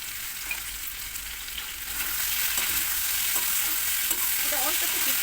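Vegetables frying in a pan with a little turmeric until reddish, a continuous close sizzle that grows louder after a couple of seconds, with faint stirring scrapes and no talk.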